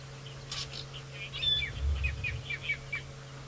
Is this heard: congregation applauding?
no